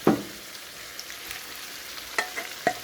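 Beef tripe slices drop into a hot pan and sizzle, a brief loud burst at first settling into a soft steady fry with a few light clinks of a utensil.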